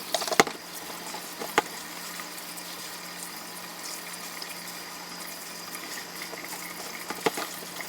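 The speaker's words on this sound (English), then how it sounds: "Let's go get them rinsed." Hen of the Woods mushrooms rinsed in a colander under running water, a soft steady stream and patter with a few sharp clunks, fairly quiet throughout.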